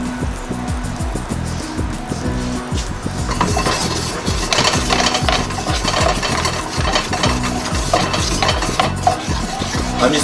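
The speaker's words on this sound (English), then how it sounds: "I'm just going to swirl it in the sauce until the butter melts down" Butter being swirled into a pasta sauce in a pan off the heat, giving steady scraping and stirring with soft clinks and a faint sizzle, close and continuous throughout.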